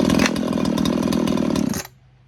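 An Echo CS-4910 firewood chainsaw roars at high revs close by, a loud steady buzz for about two seconds before cutting off abruptly to near silence.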